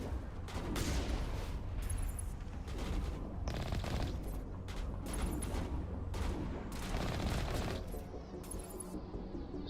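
Repeated heavy weapon blasts in Mass Effect combat, a rapid barrage of loud booming shots in uneven bursts over several seconds, with crashing impacts and no voices.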